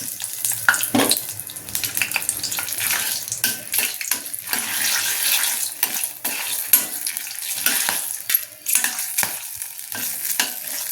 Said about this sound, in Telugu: ఇదిగండి ఆయిల్ వేడెక్కింది ఇప్పుడు దీంట్లో చెక్క యాలుక లవంగాలు తర్వాత ఈ బిర్యానీ ఆకు